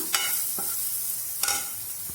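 A spoon stirs masala and asafoetida through a hot pan, giving a few distinct scraping strokes over a steady background sizzle, with no voices.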